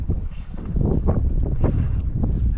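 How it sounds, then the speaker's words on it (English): Wind gusting across open prairie during a walleye fishing trip in North Dakota, a loud low rumbling buffet on the microphone, steady and close, with no talk. "The wind picked up finally"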